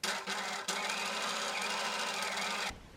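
A sewing machine stitches stretchy fabric, running in a fast, steady mechanical whir with a brief hitch near the start before stopping abruptly.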